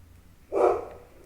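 A dog gives a single short bark that is fairly loud but slightly muffled, set against a quiet indoor background.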